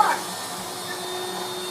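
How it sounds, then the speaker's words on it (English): A 1995 Hoover Turbopower 3 upright vacuum cleaner runs steadily with a constant whining drone and a thin high whistle, close and alone after a brief start. "We can vacuum the dirt up."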